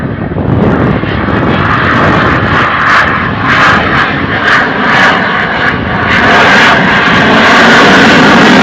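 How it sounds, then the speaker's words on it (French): Dassault Rafale fighter jet at an airshow, its engine throttling up into a loud, sustained roar that swells and rumbles over several seconds, with bursts of crowd noise beneath it. "Et attention à la remise de gaz."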